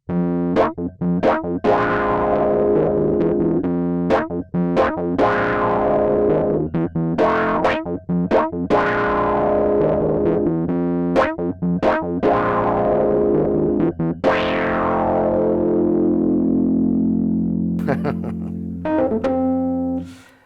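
A Rhodes MK8 electric piano plays chords and notes through a fuzzy, distorted wah effect, with sweeping filtered tones that swell and decay across a steady, loud passage.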